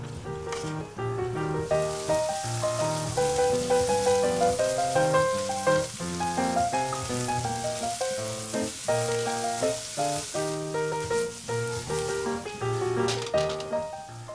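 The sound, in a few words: corn kernels frying in butter in a pan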